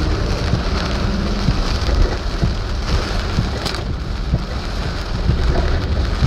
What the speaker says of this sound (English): check out this heavy ass rain